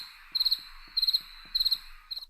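Crickets chirping in rhythmic bursts of rapid trills, evenly spaced about every half second, clear and alone over a quiet background.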